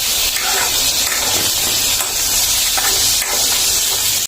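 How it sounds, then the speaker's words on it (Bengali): Prawns and onions frying together in a wok: a loud, continuous close-up hiss of hot oil with bursts of spattering and stirring. "সাথে মাছগুলি দিয়ে ভাজা নেবো একবারে।"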